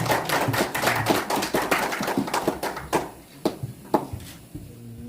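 A crowd applauds at a Korean sijo poetry collection book launch ceremony, dense clapping that thins out into scattered individual claps, near and moderately loud, with no talking.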